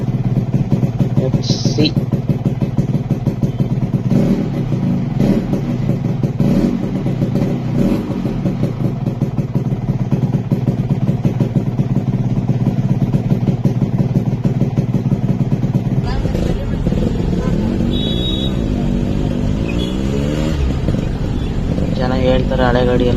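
An old Yamaha RX 100 motorcycle with an odd engine noise idles and revs in a continuous, loud, rattly two-stroke drone, with a shift in engine note partway through and someone talking over it.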